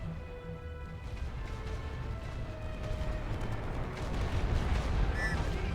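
Gunfire rumbles from battle in The Great War Western Front, a World War I game with Germany in 1916, as a dense, steady roar of distant shots and explosions that swells louder toward the end.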